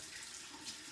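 Hot water runs steadily from a tap into a sink for handwashing, a soft constant hiss and splash at low volume with no voices.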